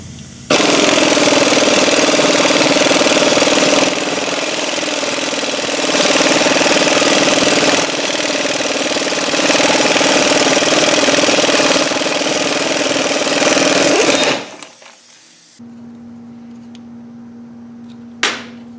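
A pneumatic impact wrench hammers loudly and continuously for about fourteen seconds on a Chevy control arm bushing, with brief dips in intensity, then cuts off, leaving a low steady hum in a quiet workshop.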